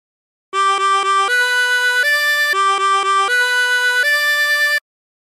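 A 16-hole tremolo harmonica plays a La Cucaracha phrase: groups of three quick repeated notes, each followed by a longer held tone, stepping up in pitch, loud, close and alone.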